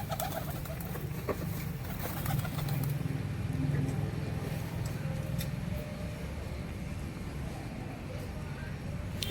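Desi pigeons coo steadily in a loft kept for sale, a dense, continuous low cooing from several birds close by, with a person's voice and faint traffic noise in the background.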